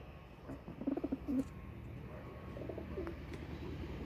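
Teddy-breed pigeons coo in a short burst of low, throaty notes, followed by a fainter coo a moment later, set against steady background hum.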